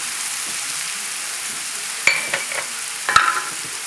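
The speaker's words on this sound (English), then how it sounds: "Mix everything up so it gets mixed up in here." Wild rice and turkey salad is stirred in a hot pan over a soft continuous sizzle, with two clusters of sharp utensil scrapes and clinks against the pan partway through.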